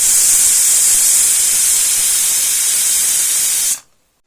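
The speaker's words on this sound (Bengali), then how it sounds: "প্রেশার কুকারে সিটি চলে আসছে।" A pressure cooker cooking khichuri lets out a loud, continuous steam hiss for several seconds, then cuts off abruptly into silence, with no talk over it.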